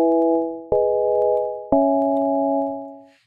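A synthesizer set to a sine wave with its filter frequency lowered plays a smooth, pure sustained tone in three held notes, each starting abruptly and fading gently before the next, alone and clean.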